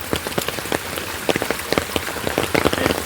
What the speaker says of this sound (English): The rain's died off a little bit this morning, and we're expecting heavy falls again tonight